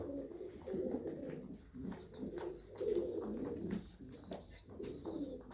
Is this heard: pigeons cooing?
yes